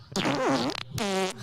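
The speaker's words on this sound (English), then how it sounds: "In the chat, we had somebody demanding fart sounds." Two bursts of a fart sound effect, the first long and wobbling, the second shorter and steadier, loud and close with no talk over them.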